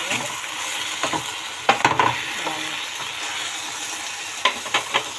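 Mixed vegetables frying with oyster sauce are stirred in a pan, a steady sizzle broken by a few sharp scrapes and clacks of the utensil against the pan, close and moderately loud, with no talking.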